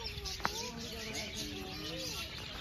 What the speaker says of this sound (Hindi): तो ये कॉकटेल है